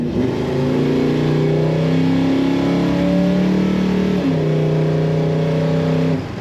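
A 1971 Buick GS Stage 1 muscle car engine revs loudly and smoothly, pitch rising through gears with a brief dip before climbing again.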